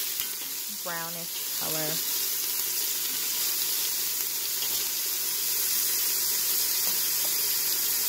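Vegetables for gumbo sauté in a hot pan with a steady, close sizzle, while a person speaks briefly over the frying and a few soft clinks sound.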